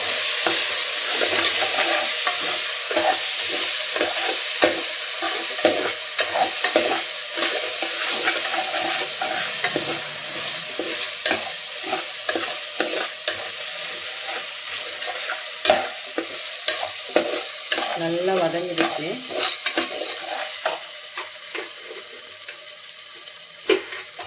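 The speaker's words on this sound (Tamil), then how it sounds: "அதையும் போட்டு நல்லா கலந்து விடலாம்" Mint leaves being stirred into pulao frying in a pan make a continuous loud sizzle, broken by repeated scrapes and clatters of a spoon against the pan, with no voices.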